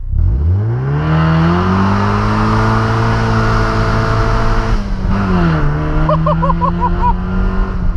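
A Mazda MX5 with a 110 hp engine and no exhaust accelerates hard from a launch, a loud raw drone climbing steadily in pitch, then dipping briefly at a gear change before pulling up again close by.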